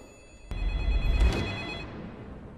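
A telephone bell rings once with a sharp onset, a bright sustained trill that decays over about two seconds, heard alone and close.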